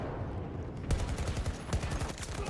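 Rapid automatic fire from an AK-24 rifle in Battlefield 2042, a dense close burst of shots in steady rhythm that starts after a quieter moment and keeps going to the end.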